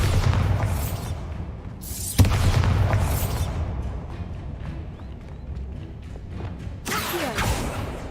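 Bombarda spell explosions in Hogwarts Legacy: two booming blasts, one near the start and a sharper one around two seconds, then a rumbling tail and a later burst of crackling debris, all loud and close with no talk.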